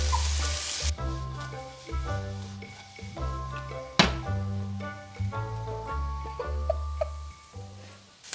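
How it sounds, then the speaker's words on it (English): Vegetables sauté in a pan with a continuous close sizzle, punctuated by dull thunks and scraping as they are stirred, over a steady tonal background. "we're gonna let these saute for just a few minutes"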